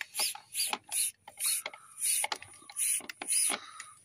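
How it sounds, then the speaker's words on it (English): On a VW Golf 2.0 GT TDI with turbo underboost, a hand vacuum pump works a turbo actuator. Close, rhythmic squeaky rasping strokes repeat about eight times in quick succession. "And we're going to pump it up, see if it's building up vacuum and holding."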